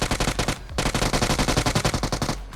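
Automatic gunfire in the mobile game PUBG Mobile on a Bedwars-style map, a loud rapid string of shots with a brief pause, then another long burst firing in quick, even rhythm.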